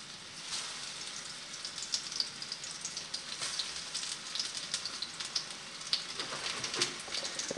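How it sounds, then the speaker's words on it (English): Meat patties fry in a pan with a steady, close crackling sizzle and scattered sharper pops, heard alone with no talk. "We're going to get our patties frying up in there."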